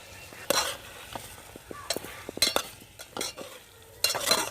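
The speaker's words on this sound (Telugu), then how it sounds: "ఉప్పు కారం పట్టేటట్టుగా బాగా కలిపెట్టుకోవాలన్నమాట రొయ్యలకి" Prawns are being mixed by hand with turmeric, chili powder and salt for a mango prawn curry, giving close, irregular wet squelches and scrapes in short bursts with no talking.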